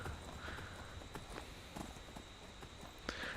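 Horse hooves clip-clop at a steady walking pace in Skyrim, a run of light regular impacts over constant ambient game noise, with a slightly louder hit near the end.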